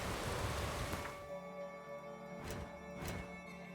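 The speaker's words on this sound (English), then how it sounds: "Of course, it's raining." Steady hiss of rainfall in The Witcher 3 with a soft, continuous wash of drops, a faint low rumble beneath, and a couple of brief brighter splashes near the end.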